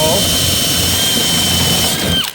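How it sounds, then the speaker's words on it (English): A loud, steady high-pitched whine of a drill boring mounting holes through metal for carriage bolts on a trailer, continuous throughout, then winding down abruptly at the end. "I'm just drilling my mounting holes for my carriage bolts."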